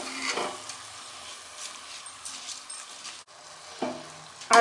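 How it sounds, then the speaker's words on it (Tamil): Rice stirred and fried in a pot for veg pulao gives a steady low sizzle with scraping spoon strokes against the pot, close and continuous, with a couple of louder stirring knocks. "ரைஸ் சேர்த்துட்டு நல்லா மிக்ஸ் பண்ணி விடுங்க"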